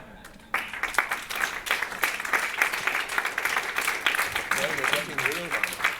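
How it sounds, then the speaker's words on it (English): Audience applause after a lecture on entertainment education breaks out suddenly and continues as a dense, moderately distant clapping, with a voice speaking over it near the end. "Trying to model applause?"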